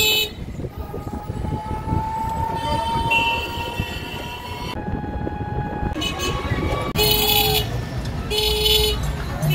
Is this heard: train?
yes